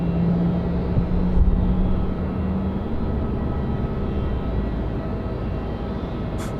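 A Cathay Pacific airliner makes a low, powerful departure from Sydney Airport in gusty westerly wind, a loud, steady broadband engine roar that fills the whole stretch without letting up.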